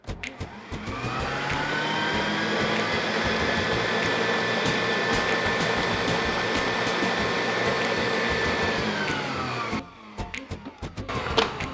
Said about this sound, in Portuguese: Vamos levar lá na batedeira, vamos deixar ele soltar um pouquinho